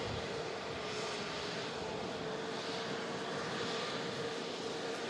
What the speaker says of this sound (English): EasyJet A320 Neo just landed as well.